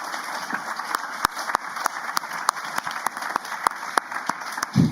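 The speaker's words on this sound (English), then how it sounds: "A big round of applause for our amazing panel." Audience at a climate and ocean conference session clapping for a panel, a thin spread of hands with a few sharp, distinct claps standing out, fairly light and steady until a brief thump at the end.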